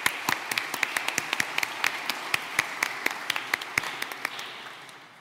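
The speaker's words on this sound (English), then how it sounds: "So, well, a round of applause, please." Applause from a conference audience after a short talk, a fairly sparse patter of individual claps with some sharper nearby ones, steady for several seconds and then thinning out toward the end.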